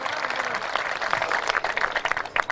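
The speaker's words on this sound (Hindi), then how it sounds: "जोरदार ताली बजा के उनका अभिनंदन करें, स्वागत करें।" Audience applause at a Hindi heroic-poetry kavi sammelan, greeting a birthday; a steady, dense wash of many hands clapping at fairly close range, continuing evenly throughout.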